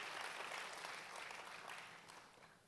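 Applause from a church congregation during a sermon, a broad wash of clapping that is faint overall and tapers off gradually toward the end.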